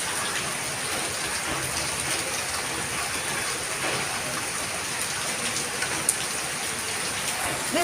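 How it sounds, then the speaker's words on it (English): Torrential monsoon downpour in Mumbai, a thick continuous patter and hiss of rain hitting nearby surfaces, loud and unbroken, with a couple of sharper drip clicks near the end. "Hear the sound of the rain."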